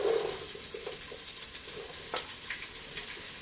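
Onion, celery and carrots sizzle in bacon grease in a large soup pot for loaded cauliflower soup, a steady close frying hiss broken by a few louder crackles and stirring scrapes, with no talking.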